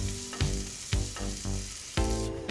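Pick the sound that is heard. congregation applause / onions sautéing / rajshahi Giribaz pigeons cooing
onions sautéing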